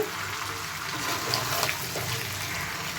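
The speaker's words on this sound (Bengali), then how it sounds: "দেখো এবার আমি গরম জলটা অ্যাড করে দেবো।" Hot water is poured into a pot of pea and chicken curry. The pour makes a steady, close, continuous rushing splash for about three seconds, with no voices.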